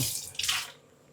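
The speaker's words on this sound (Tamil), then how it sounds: "முதல்ல டம்ளர் கழுவுங்க அது அந்த தண்ணியிலே கழுவி குடிங்க" Water runs and splashes as a drinking tumbler is rinsed under a tap, a short close burst of pouring and sloshing that fades to a faint trickle.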